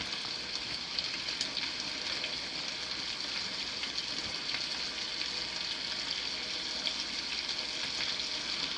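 Chicken fries in a hot cast iron pan with bacon grease, a steady, dense sizzle crackling evenly throughout, close and fairly loud with no voices.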